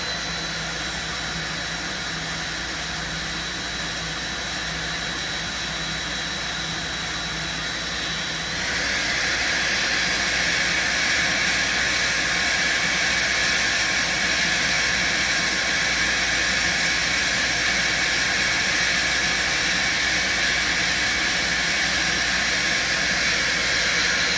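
A Nilfisk HDS1005 vacuum cleaner with a damaged body runs on its low speed setting, a steady loud motor whine and rushing air hiss that shifts slightly brighter partway through and holds constant, with no talk.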